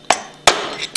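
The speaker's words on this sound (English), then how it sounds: "tap it out with a hammer" Three sharp, close metallic hammer taps, spaced irregularly, as a steel-cased seal is knocked out of a HYPRO roller pump housing with a screwdriver held against the casing.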